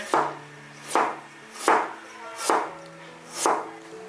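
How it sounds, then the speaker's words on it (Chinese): Knife slicing ginger on a cutting board, five evenly spaced chopping thuds about one per second, close and clear with no voices. "再来切几片姜。"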